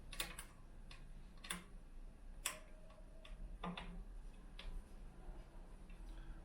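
Sparse, sharp ticks and small clicks from a screw being loosened on an acoustic guitar neck angle adjustment, close and quiet, with no talk.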